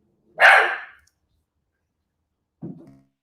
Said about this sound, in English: I've got a dog barking